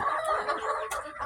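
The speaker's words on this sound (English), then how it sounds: "I think it's 47 chickens in here" Many chickens clucking in a crowded coop of around 47 birds, a dense overlapping chorus of close, steady clucks and squawks with no talk.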